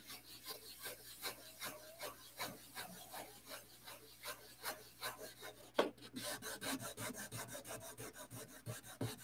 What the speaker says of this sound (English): I would say there's probably another 40 hours of sanding to do on this airplane.